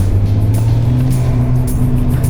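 Volvo 940 Turbo rally car on spiked tires at a rallycross track with asphalt and gravel sections, a loud steady engine drone heard from inside the car, continuous and close.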